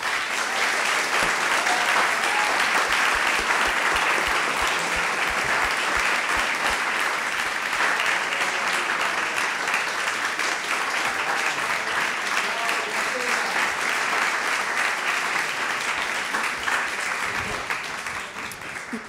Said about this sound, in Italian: per favore, un applauso per Gabriele Cirilli